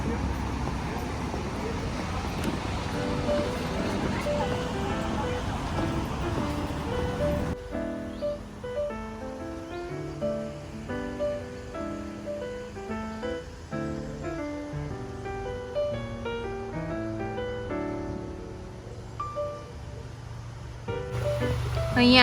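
Water rushes steadily over a small check dam built across a stream in Germany, a close broadband rush for the first several seconds before tuneful music takes over.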